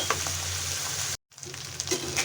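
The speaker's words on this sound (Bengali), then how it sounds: "এই অবস্থায় আমি এটা খুব ভালোভাবে ভেজে নিব" Dried fish (chepa shutki) frying in a pan with green chilies, a steady close sizzle with a brief cut to silence before the crackling resumes.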